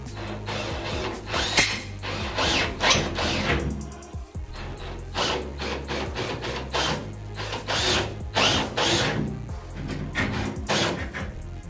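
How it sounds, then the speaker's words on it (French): A drill screwdriver drives screws into drywall ceiling panels on a self-supporting suspended ceiling, giving repeated close, loud bursts of whirring and ratcheting with short pauses between screws. "je vais visser tout le flanc qui ne tient pas actuellement"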